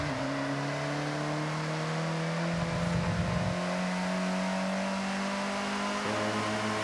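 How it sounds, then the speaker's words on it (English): In the Forza Horizon 6 racing game, a car's wheels spin at launch, with a loud, sustained engine whine that climbs steadily in pitch. A brief rougher burst of tire noise sits midway. "And you're going to wheel spin out there."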